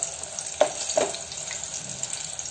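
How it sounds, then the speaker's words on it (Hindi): Very hot green chillies fry in oil for Hyderabadi machambar, a steady close sizzle with a couple of sharp pops and stirring scrapes near the start. "ये फ्राई करके निकाल लूंगी"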